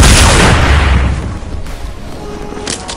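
A bomb goes off in a first-person shooter game, one loud booming blast right at the start that rumbles and fades over a few seconds into lingering debris and ambient game noise.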